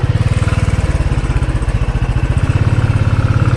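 Motorbike engines idle and putter in a close, steady, loud chugging rhythm at Kedarnath, where bikes crowd the area on every side, with no talk over the running motors.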